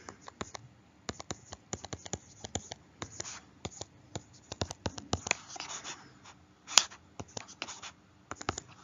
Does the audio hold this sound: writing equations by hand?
yes